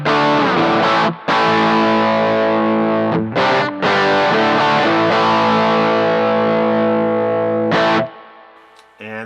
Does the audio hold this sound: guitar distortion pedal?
yes